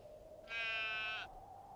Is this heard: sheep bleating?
yes